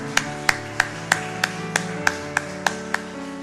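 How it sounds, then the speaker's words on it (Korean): In a church, about ten separate claps sound at a slow, even pace over a low sustained musical tone, each one crisp and fairly close, with no talking in between. "축복의 박수로 환영하겠습니다."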